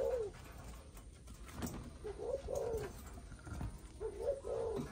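A young male dove of Malaysian lineage, about six months old, gives three soft, rhythmic cooing phrases at close range against a quiet background.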